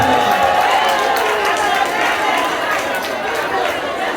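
A crowd at a school report-card ceremony claps in a loud, continuous wash of applause, close and sustained throughout, with voices and chatter mixed in.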